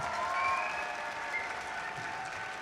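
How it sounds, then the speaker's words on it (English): Audience applause at a robotics competition district event in Statesboro, steady and moderately distant, a continuous wash of clapping with no voices. "Please give them a huge round of applause."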